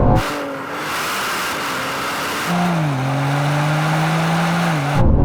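A tuned Manhart BMW launches hard in a drag race, its engine droning loudly and rising in pitch, with a gear change midway before pulling on at full throttle until the sound cuts off.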